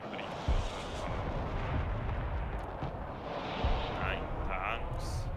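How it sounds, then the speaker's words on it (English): Missile launch in the tank battle game Broken Arrow, a loud rumbling blast with sharp bursts near 0.5 and 3.7 seconds over continuous low battlefield roar and faint talk. "I should have said I was firing a missile there"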